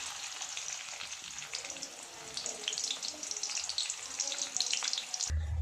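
Chopped onion hits hot oil for a rajma curry, giving a steady bright sizzle that holds close and fairly loud throughout, ending with a sudden dull clunk of the pan or utensil.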